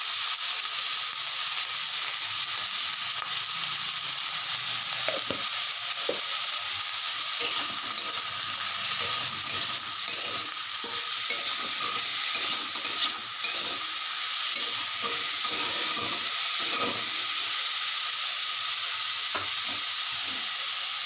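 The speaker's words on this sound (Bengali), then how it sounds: "দেখুন, এটা কিন্তু জল ছিটিয়ে ভেজেছিলাম, সেদ্ধ হয়ে গেছে, কিন্তু আরও একটু ভাজতে হবে।" Bottle gourd peels fry in a pan with salt and turmeric after a sprinkle of water. A steady, loud sizzle continues throughout, with scattered scraping stirs.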